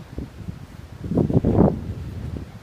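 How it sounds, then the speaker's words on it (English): Wind gusting across a microphone on a riverbank, soft rumbling buffets that swell to a stronger rush in the middle before easing. "It's a really windy little spot here on the riverbank."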